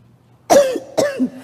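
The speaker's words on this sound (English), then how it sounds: "No, my cough is okay." Two sharp, close coughs about half a second apart, the second trailing into a brief throaty rasp, in an otherwise quiet space.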